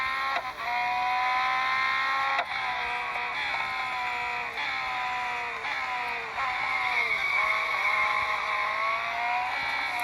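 Tyre squeal from a car skidding and drifting in the racing video game Hybrid Horsepower on the Nürburgring, a loud sustained screech with wavering pitch layered over engine drone, continuous throughout with no talk.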